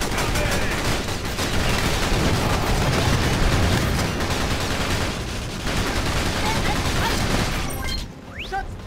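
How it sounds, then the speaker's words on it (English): Sustained, loud gunfire and bursts of machine-gun fire in a Battalion Wars base-defense battle on GameCube, dense and continuous for about eight seconds before cutting off abruptly. "Shots have been fired!"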